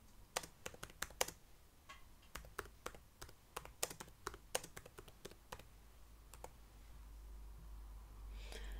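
Quiet keystrokes tap on a computer keyboard in irregular bursts, then thin out as a low background rumble rises toward the end.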